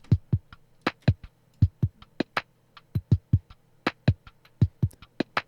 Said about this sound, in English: And then I've just got this kind of lazy drum loop.